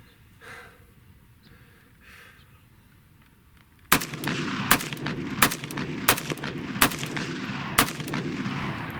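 An AK-pattern rifle with a brace fires outdoors, a rapid string of loud, sharp reports in quick succession after a quiet lead-in, each shot cracking hard and close.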